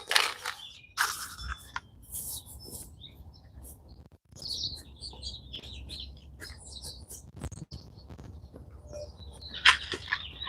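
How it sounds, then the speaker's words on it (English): Birds chirp and tweet outdoors around a corn field being planted on a hot day: scattered, sharp calls at mid distance with quiet gaps, no talking. "All the birds chirping."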